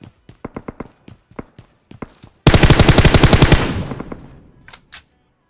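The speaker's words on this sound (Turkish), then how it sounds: "Bir dakika sağdan biri sıkıyor bile." Gunfire in the battle game PUBG Mobile: a string of separate sharp single shots, then a dense, loud automatic burst lasting about a second that fades into a decaying tail, with two faint shots at the end.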